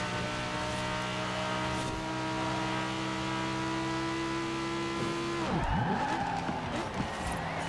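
A naturally aspirated engine holds a steady, high, harmonic-rich rev in a Forza Horizon 4 road test of the ItalDesign Zerouno, then sweeps down sharply with a shift or lift near the end. Tire noise and racing ambience sit under it, with no speech.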